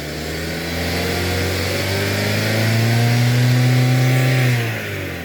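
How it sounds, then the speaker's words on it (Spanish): A car engine revs up steadily, its low drone rising in pitch and loudness over several seconds before dropping back near the end. "Ahí nos encontramos acelerando el motor."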